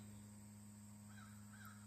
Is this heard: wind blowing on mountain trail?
no